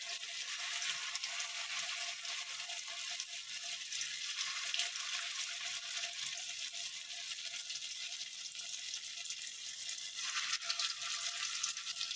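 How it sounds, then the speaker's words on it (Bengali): Chicken kofta balls made from minced chicken and chana dal fry in oil, giving a steady, bright sizzle that holds evenly throughout with no voices. "এবার আমি বাকিগুলো ভেজে নেব।"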